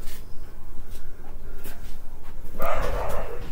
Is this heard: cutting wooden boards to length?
no